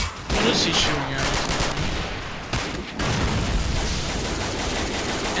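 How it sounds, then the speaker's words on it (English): Gunfire in the World War II strategy game Men of War: Assault Squad 2 during a forest battle, loud rattling bursts and fusillades of shots, with a sharp heavy blast near the middle and steady firing before and after. "What is he shooting at?"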